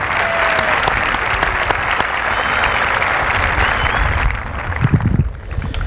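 Applause fills an auditorium at the Lorain High School class of 1995 commencement, loud and continuous, with some louder bumps and rustles near the end as it begins to subside.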